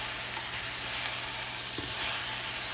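Beef and vegetables with green onions sizzle in a stir-fry pan over lowered heat, a steady, close hissing fry with a faint clink partway through.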